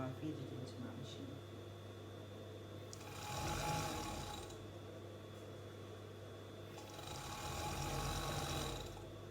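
Sewing machine stitching the side seams of bell-bottom leggings, two steady whirring runs of a few seconds each over a continuous background hum, with someone talking.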